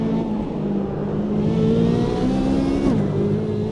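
A supercar engine in Automobilista 2 revs and climbs through its range, a smooth rising whine with a brief dip near the end, steady and close with no talking.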